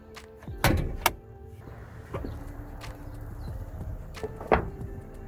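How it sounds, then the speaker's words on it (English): Bonnet of a Toyota HiLux RN85 with a 22R engine being opened: a sharp latch clunk and a thud, then quieter metallic clicks and a final clack as the hood is raised, close up with no talking. "we need to open the bonnet"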